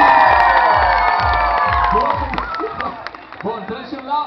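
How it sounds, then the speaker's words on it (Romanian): Audience applause and cheering for a four-year-old girl at a children's costume event, loud clapping, whoops and children's shouts with an amplified voice carrying over the crowd before it thins out. "haideți să aplaudăm"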